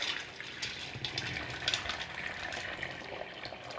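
Water is poured into a cooking pot holding suchiles ingredients for a traditional Guatemalan drink, a steady, soft splashing stream that runs continuously for several seconds with no talking.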